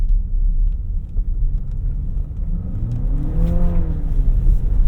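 A 2025 Nissan Murano Platinum with all-wheel drive and a 2-liter engine drives through snow, giving a steady low engine rumble and road noise that swells as it accelerates toward the end.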